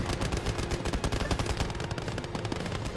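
Dense, continuous gunfire in the World War II strategy game Gates of Hell at Kasserine Pass, rapid overlapping machine-gun bursts and rifle shots rattling steadily without a break.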